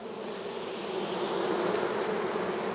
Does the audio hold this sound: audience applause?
no